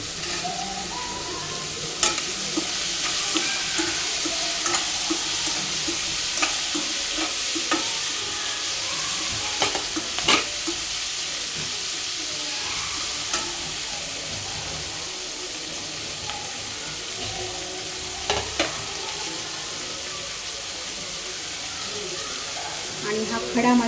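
Chili, ginger and garlic fry in a pan of oil for a dhaba-style paneer masala, giving a steady, close sizzling hiss broken by scattered spatters and sharp stirring clicks.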